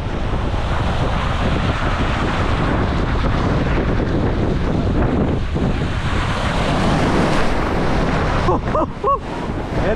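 Waves crash against the Lake Michigan shoreline in Chicago near downtown, a loud, continuous roar of surf mixed with heavy wind buffeting the microphone, close and unbroken throughout.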